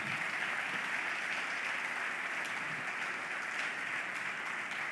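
A church congregation claps steadily at a worship celebration service, a dense, even wash of applause sustained throughout with no speech over it.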